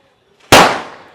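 A homemade cartoon cracker rocket firework gives a brief rising hiss, then one sharp, loud, close bang that rings out and fades over the next half-second.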